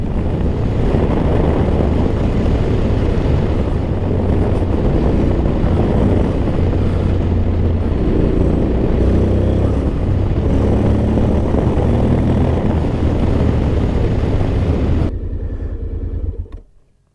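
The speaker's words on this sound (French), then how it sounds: "Ça accélère. Ça accélère plutôt bien." A 2024 Honda X-ADV 750 DCT scooter accelerates under way, its engine drone mixed with heavy wind rush, loud and continuous, then fading out abruptly at the end.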